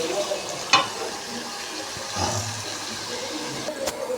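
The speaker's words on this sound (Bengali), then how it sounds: "দেখো আলুটা দিয়ে ভালো করে আমি ভেজে নেব।" Potatoes frying in hot oil in a kadai, giving a steady soft sizzle with a couple of sharp utensil clinks and a brief scrape, close by and without speech.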